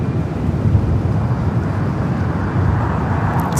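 A Southwest Airlines plane in special livery taxiing at LAX, a steady distant jet engine rumble and hiss, continuous and fairly loud without distinct peaks.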